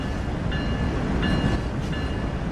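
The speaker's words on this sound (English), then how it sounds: "train begin to slow down due to the extra braking effort" A heavy freight train in Train Sim World 3 slowing under dynamic braking, with a steady low rumble of rolling wagons and brief high tonal whines recurring roughly every second over the continuous mechanical drone.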